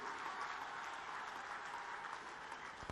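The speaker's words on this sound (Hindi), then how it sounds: "आप जोरदार तालियों बजाकर स्वागत करने का काम कीजिए" Steady applause from a large crowd at a political rally in Jhanjharpur, Bihar, dense and continuous throughout, with no voices standing out.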